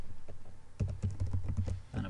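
Someone types on a computer keyboard in a quick, close run of keystrokes with a denser flurry partway through, no talk.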